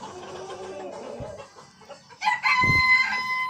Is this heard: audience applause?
no